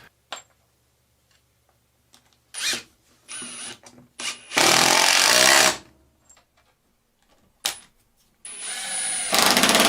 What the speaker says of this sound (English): here I'm going to use an impact driver to set these screws